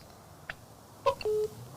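Telephone keypad tones as a call is dialed: a few short beeps close together ending in a longer steady tone, close and clear over a quiet background.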